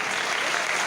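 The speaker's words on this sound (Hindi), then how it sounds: "इनका जोरदार ताली होना चाहिए" Audience applause at a Hindi-language business seminar, a steady dense wash of clapping filling the whole second at moderate loudness with no pauses.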